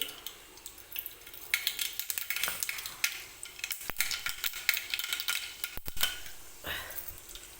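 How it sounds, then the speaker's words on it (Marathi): Mustard seeds splutter in hot oil for a tempering, making a dense, irregular crackle of small pops with occasional sharp snaps. The sound is close and fairly quiet, with faint utensil clinks. "मोहरी व्यवस्थित तडतडू द्यायची आहे म्हणजे फोडणी व्यवस्थित बसते"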